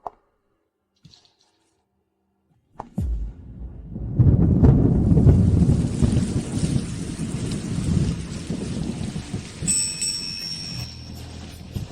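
A thunderstorm breaks in a drama scene: near-silence, then a sudden sharp thunderclap and deep rumbling, followed by steady heavy rain pouring on surfaces.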